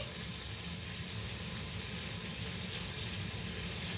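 Food sautéing in a pan gives a steady, even sizzle with a soft hiss that stays at one level throughout, with no voices over it.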